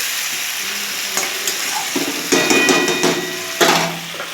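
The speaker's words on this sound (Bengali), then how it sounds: "এই যে ডাঁটা আলু বেগুনটা আমার এইরকম ভাজা ভাজা হয়েছে" Continuous sizzling from drumsticks, potato and eggplant frying in a pan, with clanks and scrapes of stirring breaking in now and then.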